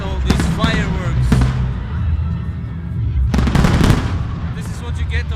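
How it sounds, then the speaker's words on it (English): Independence Day fireworks over Republic Square in Yerevan, Armenia: a few loud booming bursts with crackling bangs, close by, over a busy crowd with voices and cheering throughout. "Look at all these fireworks."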